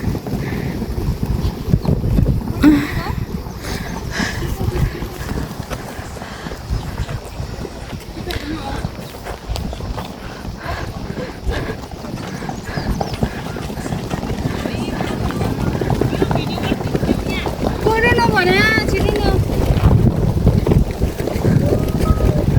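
Steady outdoor wind gusts buffet the microphone on a trip to Manichud, a continuous low roar that grows stronger toward the end, with people talking and moving under it.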